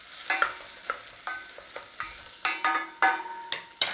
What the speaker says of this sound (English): We're going to dump in there our chopped garlic and our onions. I'm going to start to give that a little saute in there.